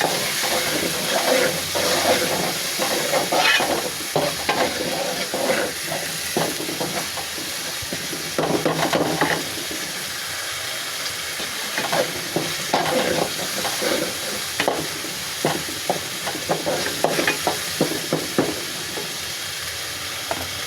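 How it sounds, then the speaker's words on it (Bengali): Spices fry in oil in a pan that has had a little water added. A loud, dense sizzle with some steamy hiss carries on for the whole stretch, broken by frequent stirring clatters and with no speech. "আমার মশলাটা ভাজা হয়ে গিয়েছে, তেল উপরে উঠে এসেছে"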